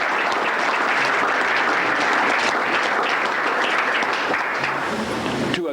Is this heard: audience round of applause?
yes